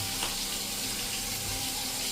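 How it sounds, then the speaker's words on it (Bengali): Fish frying in a pan in a home kitchen, a faint, steady sizzle and crackle with a watery hiss running throughout, no voices. "সকাল সকাল মাছ ভাজা চলছে।"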